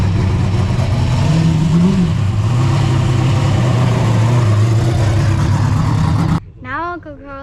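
A drift car drives around the block to season its brakes, its engine droning and rising steadily with a passing revving swell, then cutting off abruptly into a brief spoken voice near the end.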